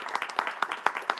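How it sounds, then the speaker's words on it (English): Audience applause at a tech keynote session, a brief burst of scattered hand claps, close and moderately loud. "Please round of applause."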